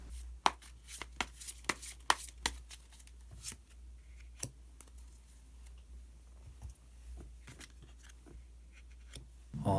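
Tarot cards slide and rustle as one is drawn from the deck, giving soft papery shuffles and several sharp close taps spread irregularly across a quiet room.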